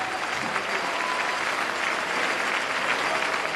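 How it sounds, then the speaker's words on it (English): Crowd at a college hockey game, Canisius at RIT, applauding steadily as an injured player gets up; a far-off, even wash of clapping from the stands with no break. "there you hear the applause"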